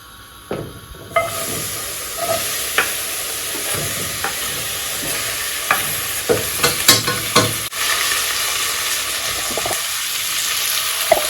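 Sweet peppers and other cut vegetables frying in a pot for bulgur, with a steady hiss under repeated sharp scraping and stirring clacks, close and fairly loud.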